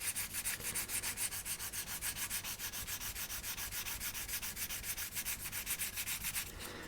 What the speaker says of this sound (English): I'm gonna go in with a 400 and take it down so we don't have a lip and it's flush with the top of the bonnet